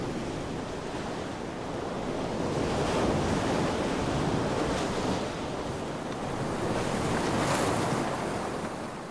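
Ocean waves surge and break steadily around Midway Atoll, a broad continuous roar of surf with wind noise swelling and easing in long cycles.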